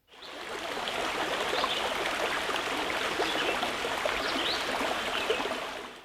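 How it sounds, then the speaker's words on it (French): A river rushes steadily nearby, a broad continuous watery hiss with bubbling, fading in at the start and out at the end. "grâce au bruit de la rivière du bas qui s'éloigne"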